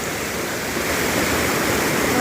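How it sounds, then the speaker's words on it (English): Loud, steady rush of a stream cascading down over rocks on the Appalachian Trail, close by and continuous, filling the whole clip with broadband water noise and no talking. "Here's a little bit of cascades here coming down."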